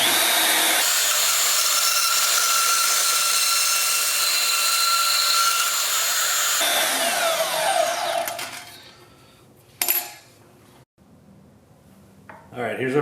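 A power saw cuts about an inch off metal stock for a press-fit pin on a Rockwell mill quill handle, a loud steady high-pitched grind that winds down after several seconds, followed by quieter clatter.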